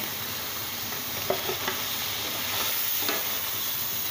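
Chicken seekh kebabs fry in oil-released masala for a malai seekh kebab handi, giving a steady, close sizzle throughout with a few soft stirring clicks and knocks, and no talking.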